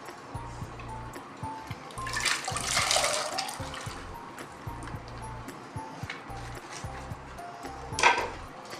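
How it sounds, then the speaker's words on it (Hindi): Water is poured from a vessel into a cooking pot for boiling, a close splashing pour that swells to a peak midway and again near the end, with clinks and a low background hum. "इसमें हमने रखना है पानी जो हम बॉईल करेंगे। ये हमने इसमें डाली।"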